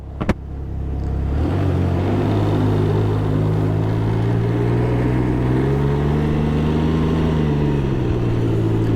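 A 2021 Can-Am Ryker three-wheeler idling and rolling forward on a wet winter day, a steady loud engine drone with a low rumble and slight pitch shifts, close to the listener with no speech.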